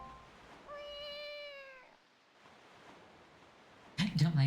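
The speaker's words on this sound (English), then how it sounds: "A very loud cat." Cat meowing in Wind Waker HD, one drawn-out, clear meow lasting about a second, followed by quieter rustling and a loud burst of noise at the end.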